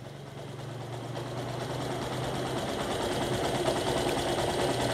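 A Yamaha YTX motorcycle engine idling while its air-fuel mixture is adjusted: a steady close putter with fine rapid pulsing that grows slightly louder over the span, heard alone without voices.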